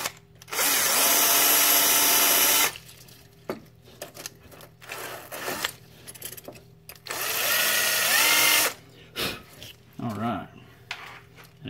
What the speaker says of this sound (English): Again, that's a cylinder wire brush.